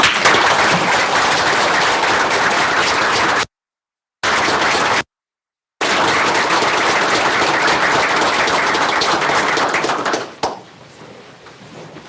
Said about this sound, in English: I would like for us all to give him a round of applause